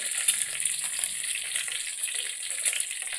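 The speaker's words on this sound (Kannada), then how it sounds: "ಈ ರೀತಿ ಫ್ರೈ ಮಾಡ್ಕೊಳ್ಬೇಕು" Curry leaves, ginger and green chilli fry in oil with a bright, continuous crackle and sizzle, close and even, with faint stirring and no talk.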